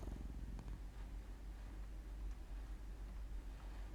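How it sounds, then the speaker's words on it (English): A cat purrs sleepily in a video game, a steady low rumbling purr that stays soft and continuous with no other sounds. "the cat pads over to you before laying down and purring sleepily"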